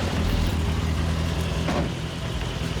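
A turbocharged Miata idles as it warms up, a steady, close mechanical rumble holding an even note, with a brief faint clatter partway through and no talk.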